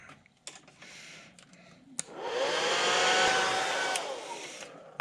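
A heat tool blasting hot air onto airbrushed paint on a football helmet fishing lure, a steady whooshing roar that starts abruptly after a few clicks and runs close and loud for two seconds.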